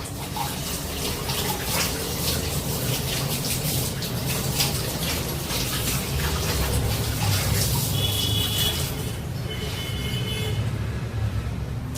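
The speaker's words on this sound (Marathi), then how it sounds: "हळदीची पानं ही स्वच्छ धुवून घेऊया" Water runs steadily from a tap as turmeric leaves are washed, a constant close rush and splash with light handling noises and a subtle change in tone near the end.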